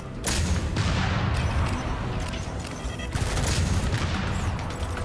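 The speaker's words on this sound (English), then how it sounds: "Okay, so they're shooting rockets." Enemy rocket fire in the video game Deadzone: Rogue, a dense, continuous barrage of loud blasts and booms with sharp impact bursts throughout, no talk.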